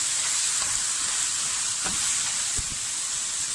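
Onions sizzle and fry in a pan, a dense steady hiss running throughout, with a few soft clinks and stirring knocks underneath.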